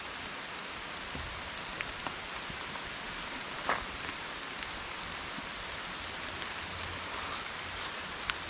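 Steady rain patters outdoors beside a food truck, a soft even hiss with scattered distinct drops and occasional sharper taps.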